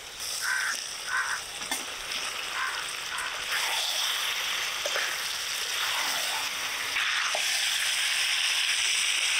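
Fried chicken pieces hit a pan of spiced masala, sending up a loud, steady hiss and crackle with a few soft clinks. Crow calls sound in the background.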